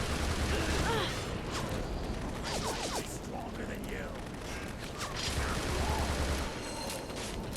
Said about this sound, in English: I like the Star Wars sound effects for them shooting rockets